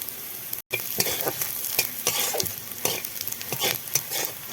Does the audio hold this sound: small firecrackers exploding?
no